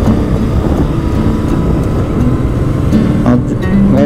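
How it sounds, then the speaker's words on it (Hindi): A Hero motorcycle rides fast, its low engine drone buried under heavy, constant wind roar buffeting the microphone, loud and steady throughout. "और बाइक तेज चला कर देखते हैं"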